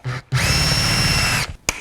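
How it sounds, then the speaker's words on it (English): Power drill boring out a metal part of a handmade folding knife, a brief spin-up then a sustained loud whine for about a second before stopping, followed by a short click. "let's see if I can drill it out"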